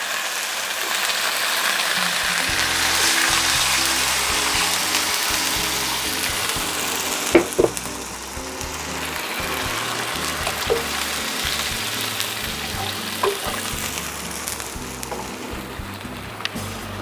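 Spiced beef sizzles loudly in a pan as water is poured in, a continuous hissing sputter that lasts throughout with a few small clicks and no voices.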